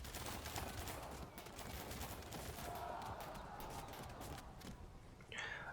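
Distant long-range gunfire in the Field of Glory II strategy game, a dense crackling fusillade running throughout, with rapid sharp reports layered over a steady noisy background.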